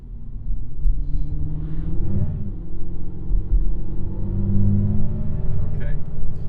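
Simulated sporty car powertrain with active sound design, a deep bass-heavy engine drone with strong resonant tones swelling and holding steady, loud and continuous throughout.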